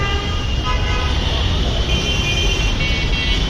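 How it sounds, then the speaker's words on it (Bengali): Car horns honk repeatedly on a busy Bangladesh city street, loud and close, layered over a steady roar of engines and road traffic that never lets up. "এত হর্ন কেন বাজাচ্ছে?"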